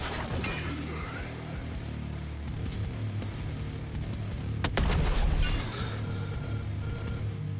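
Heavy cannon fire in the video game The Last Spell, a series of booming blasts with one sharp loud crack partway through, set against a rumbling battle mix.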